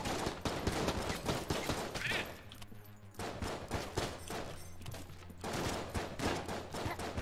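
Rapid pistol shots in Enter the Gungeon crackle in quick succession, briefly pausing before resuming the fast firing, with game music or hum faintly underneath.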